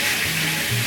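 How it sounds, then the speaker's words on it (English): Beef sizzles and crackles steadily in hot oil in a pan, a constant hissing spatter close by with no voices. "Ah, listen to that sizzle."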